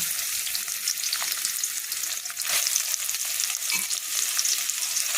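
Small soybean chunks frying in oil in a kadai give a steady close sizzle with occasional stirring scrapes, no voices.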